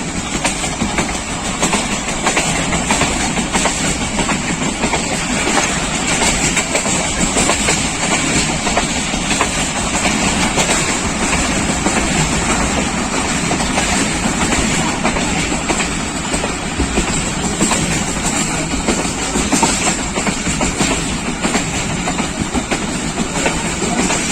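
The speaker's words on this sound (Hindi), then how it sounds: "ट्रैक साउंड सुनो।" The 18 Down Millat Express of Pakistan Railways runs along the track, a loud continuous rumble and rattle of carriages with a rhythmic clickety-clack heard from on board, no one talking.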